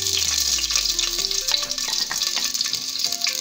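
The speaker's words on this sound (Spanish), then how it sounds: "Esperamos que dore nuestra cebollita." Chopped onion fries in vegetable oil with a loud, steady bright sizzle, close up and continuous, with light stirring clicks and soft background music.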